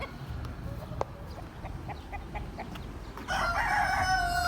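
Several roosters crow and cluck outdoors, somewhat distant, with a louder crow rising near the end over a steady background hiss. No talking is heard.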